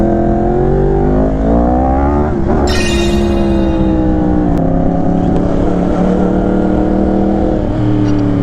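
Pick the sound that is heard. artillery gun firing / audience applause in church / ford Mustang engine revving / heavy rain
ford Mustang engine revving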